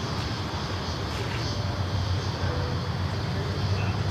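A Qantas airliner taking off at Sydney Airport, a low steady jet rumble heard from a distance that holds broadly even throughout, mixed with ambient noise and no clear voices.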